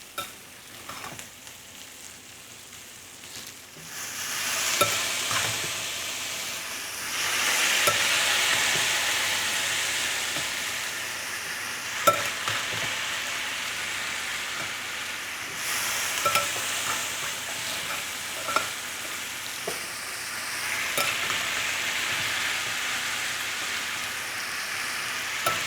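Potatoes sizzling and frying in a breakfast skillet, stirred with a spoon: steady close crackle with repeated scraping stir strokes and brief clicks, swelling louder as fresh batches hit the pan, no talking.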